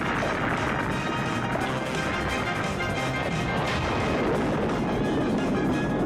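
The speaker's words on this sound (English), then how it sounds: "The final explosion was so big that it was reported as a plane crash." Huge explosion effect from the golf-course finale of the 1980 film Caddyshack, a sustained dense roar of blasts and crashing debris that stays loud and continuous throughout with no talking.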